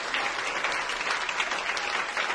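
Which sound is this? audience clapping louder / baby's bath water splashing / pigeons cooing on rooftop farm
audience clapping louder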